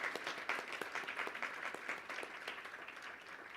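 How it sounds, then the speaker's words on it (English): Conference audience applauding at a worker cooperative event in New York City, a sustained wash of many hands clapping with individual claps popping out, gradually easing a little in volume. "So I think she should get another round of applause for leading that charge."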